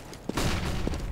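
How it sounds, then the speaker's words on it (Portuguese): A flashbang grenade detonating in the video game CS:GO, a short muffled boom that bursts in and then holds as a loud, noisy wash, with no talk over it. "Flashbang."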